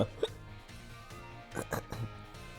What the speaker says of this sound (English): So I'm gonna keep burping